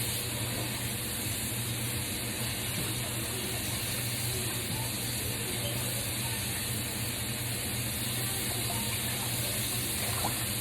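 Food being washed in water in a kitchen sink, a steady low hiss of running and splashing water continuing alone from start to finish.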